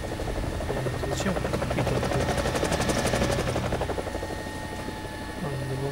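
Helicopter taking off in the video game War Thunder, its rotor drone steady and loud with a fast rhythmic blade chop that builds in the middle, while someone speaks briefly over it.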